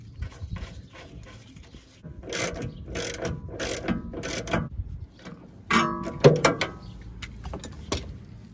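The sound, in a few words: ratchet wrench turning a bolt on car front suspension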